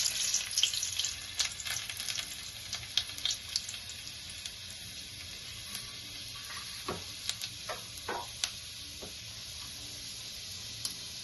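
Chopped garlic dropped into hot oil with a dried red chili sizzles steadily throughout, a close, hissy frying texture punctuated by a few sharper pops and crackles, with no voices.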